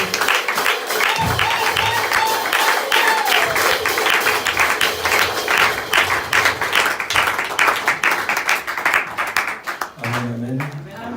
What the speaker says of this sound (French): Le peuple de Dieu se met debout et nous acclamons le nom de Dieu.